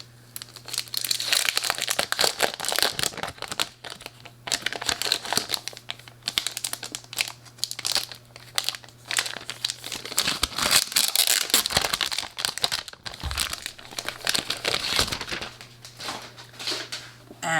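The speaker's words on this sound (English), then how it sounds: "So I'm gonna actually unbox" Packaging of a pink Rosey Life Flow planner crinkles and rustles in bursts as it is unwrapped, close and fairly loud, with a steady low hum beneath.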